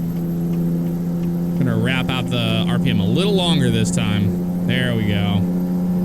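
Kenworth K100 truck engine in American Truck Simulator, revved and held at high RPM during a pass, a steady droning hum that rises and holds while someone talks over it.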